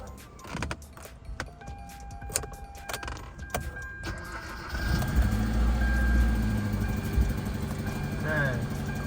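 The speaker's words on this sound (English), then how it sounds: "Okay, car starts right up." A Hyundai or Kia car with a newly installed ignition cranks briefly and then catches, settling into a steady low engine idle after some quieter clicks and handling noises.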